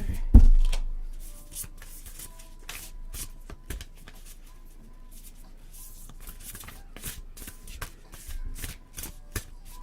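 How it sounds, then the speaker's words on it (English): Close, steady riffling and shuffling of playing cards, a dense run of papery flicks and snaps that continues for several seconds with no talking. "Just shuffle these up a little bit more."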